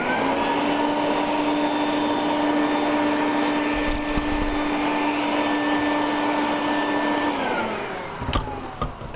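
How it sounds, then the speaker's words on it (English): Vacuum cleaner running steadily while sucking dust off a model railroad asphalt yard, a loud constant motor whine and airflow roar with faint pitch shifts, winding down near the end. "take a vacuum cleaner"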